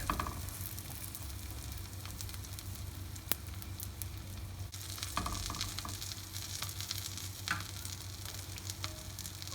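A cheese omelette, just flipped, sizzles steadily in a frying pan, a continuous close hiss with occasional small pops and no talking.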